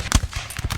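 Musket fire in the video game Napoleon: Total War comes as a quick run of sharp, crackling pops, several close shots within a second.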